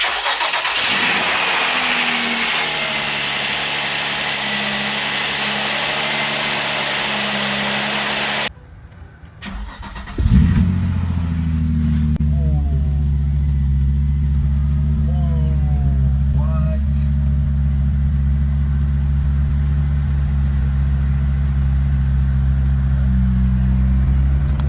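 A Nissan 350Z that has sat in long storage runs loud and close at first. It cuts out, then cranks and fires back up into a steady idle, with a few light revs and some talking over the engine.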